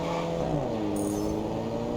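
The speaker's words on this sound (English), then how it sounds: "I love the little farts as well from the gear changes." A car engine in the racing video game Test Drive Unlimited Solar Crown revs loudly and steadily, its pitch dropping sharply at quick gear changes with short popping blips.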